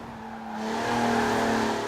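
A sports car engine in Forza Horizon 4 revs and rises in pitch with a smooth, synthetic tone, loud and steady for a couple of seconds.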